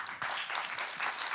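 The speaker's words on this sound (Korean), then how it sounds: "박수 한번 보내세요" An audience at a youth policy presentation festival in Yeonggwang claps together, a dense, steady wash of applause that fills the short moment.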